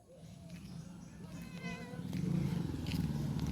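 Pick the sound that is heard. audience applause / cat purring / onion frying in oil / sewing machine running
cat purring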